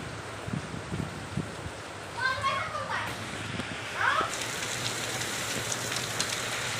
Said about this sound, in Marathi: पाऊस बघा लय पाऊस यायला लागलाय